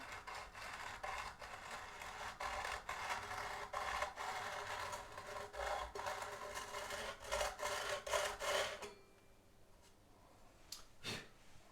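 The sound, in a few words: rubbing file along ukulele fretboard to smooth sharp frets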